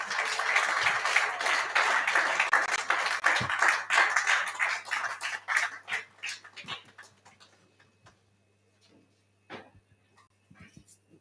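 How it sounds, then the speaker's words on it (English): An audience at a national security conference and awards event applauds, loud dense clapping that thins out into a few scattered claps and fades to near silence. "Can you please give me another round of applause, please?"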